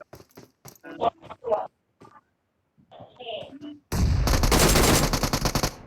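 Rapid bursts of video game gunfire and an explosion erupt loudly after a few seconds of excited talking, dense and continuous to the end.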